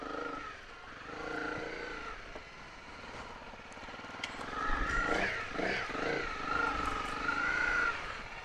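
Honda CRF250 Rally motorcycle ridden off-road near Rotomā, engine droning and rising and falling as the rider works through rough terrain, steady and fairly close with a louder surge midway.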